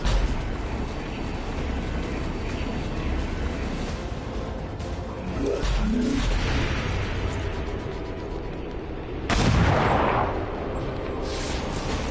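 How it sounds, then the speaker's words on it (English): Heavy gunfire and explosions in the XCOM 2 video game roll on as a dense, loud barrage, with a sharp blast near the ten-second mark standing out from the continuous battle din. "Taking heavy fire."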